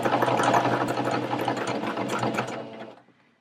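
Sewing machine stitching stretched bralette fabric in a steady, continuous mechanical whir for about three seconds, close and clear, then stopping abruptly.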